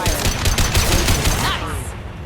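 Mass Effect 2 gunfire in a dense, loud rapid burst of shots over heavy game ambience, fading slightly toward the end.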